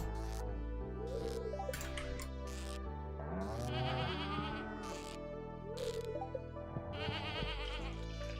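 A goat in Stardew Valley gives a few wobbly bleats layered over steady farm background music and occasional chime effects, moderately loud and spaced apart.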